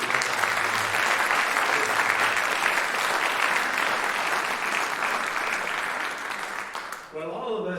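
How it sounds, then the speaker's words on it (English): An audience at a university presidential investiture breaks into sustained applause for staff and dignitaries, a dense, even clatter of many hands that tapers off at the end as a voice begins. "you ought to give a clap of hands to all the staff and dignitaries that I introduced"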